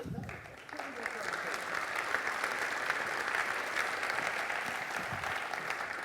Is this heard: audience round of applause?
yes